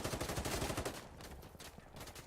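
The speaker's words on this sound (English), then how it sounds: "just used that shotgun" Shotgun blasts fired in the video game Insurgency Sandstorm come as a rapid cluster of sharp gunfire bursts, loud at first and then trailing off over about two seconds.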